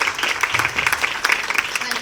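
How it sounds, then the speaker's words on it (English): An audience applauding at a Mrs India Worldwide audition event in Delhi, giving a dense, steady burst of clapping mixed with a voice. "Huge round of applause for Kirti."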